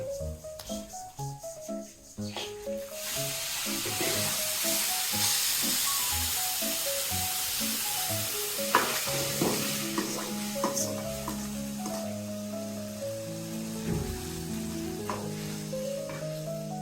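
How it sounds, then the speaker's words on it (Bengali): Broken rice frying in a pan for khuder muitta (broken rice pulao) meets a pour of hot water and erupts into loud, sustained sizzling, with stirring and clatter beneath and a sharp burst near the middle, no talking. "ভাজা হয়ে গেছে, আমি এখন গরম জল দিয়ে দিচ্ছি।"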